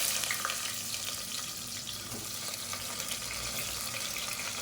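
Long-sliced onions fry in hot oil and ghee for a hotel-style paneer biryani, a steady hissing sizzle heard close and moderately quiet throughout.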